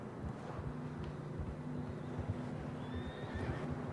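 Tired horses in Red Dead Redemption 2 give high whinnies near the end, set over a steady low rumble of movement and hooves that runs throughout the passage.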